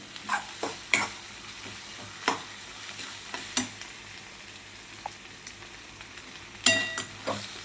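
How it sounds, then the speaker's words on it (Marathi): Egg bhurji is stirred in a frying pan under a soft sizzle, a spatula scraping and tapping against the metal in irregular close strokes. "तर असं मिक्स करून घ्यायचं आहे"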